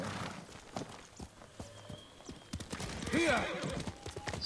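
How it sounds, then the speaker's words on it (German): Horse hooves clip-clop across the ground in the video game Ghost of Tsushima, with uneven steps, a whinny and louder, busier hoof sounds later on, under light background noise. "hier müsste ich doch wieder mein Pferd rufen können"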